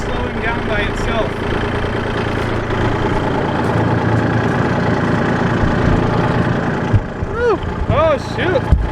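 A tractor idles close by with a rough, steady low chugging after the brush hog PTO is disengaged and its shaft coasts down, while a person talks over the engine.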